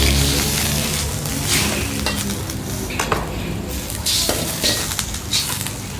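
Water poured into a hot wok of seafood stir-fry for crispy noodles with gravy, a loud rushing hiss and sizzle, with metal utensil scrapes and clinks against the pan.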